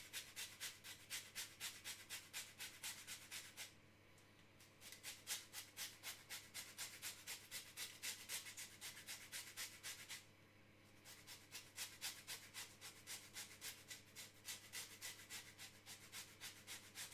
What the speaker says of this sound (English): grate the zest and squeeze the juice from the lemon